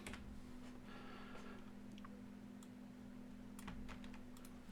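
Quiet typing on a computer keyboard, a few scattered clicks and short bursts of keystrokes over a steady low hum.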